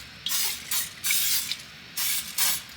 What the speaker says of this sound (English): our waffle iron is ready. I'm gonna go ahead and give it a little spray.